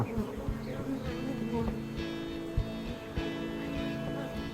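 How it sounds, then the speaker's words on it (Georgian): A steady honeybee buzz hums close by at an open hive during comb inspection, with a few soft bumps and knocks of frames scattered through it. "კარგად გამოიყურება ფუტკარი, მშვენიერი."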